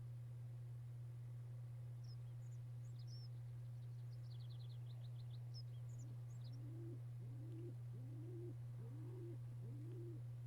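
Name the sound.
birds chirping in farmland map, Mount & Blade video game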